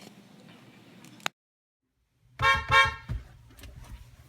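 An old jalopy car's horn honks in a couple of loud, brassy close toots after a short silence, followed by a fainter shorter beep.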